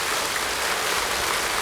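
Audience applause at a Buddhist dharma talk led by Venerable Pomnyun at Jogyesa temple, a steady dense wash of clapping that holds at an even level throughout without any talk.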